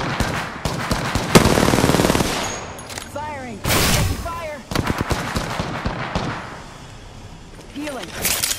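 Rapid gunfire in Apex Legends: loud bursts of automatic fire and sharp shots come in clusters, with a voice speaking between and over the volleys.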